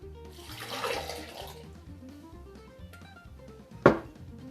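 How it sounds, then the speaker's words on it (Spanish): Water pours onto chopped melon pieces in a container, a close, bubbling trickle that swells then eases, followed by a sharp clink near the end. "Luego, agregamos la cantidad de agua necesaria para que se forme un fluido lechoso."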